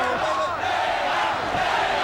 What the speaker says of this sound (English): And the crowd takes up the chant.